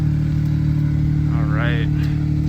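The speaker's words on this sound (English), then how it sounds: "The exhaust sounds pretty good." A small JDM Honda car idles with its exhaust running, a steady low rumble with an even rhythmic pulse close by, and a brief rising chirp in the middle.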